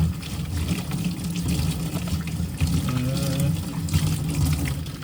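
Dishes being washed under running water from a tap, a steady close splash and gurgle with faint clinks, continuous throughout with a soft voice underneath.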